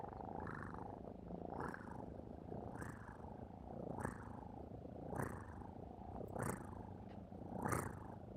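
A person imitates a cat purring with a soft, rhythmic rolling sound that swells roughly once a second, quiet and close, with no talking.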